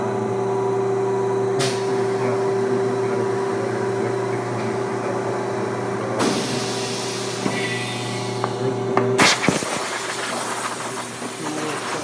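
An air gun blows a steady, loud hiss of air to cool ABS plastic during thermoforming, accompanied by a constant machine drone and a few abrupt shifts and rattles toward the end.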